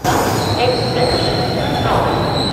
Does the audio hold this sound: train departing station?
yes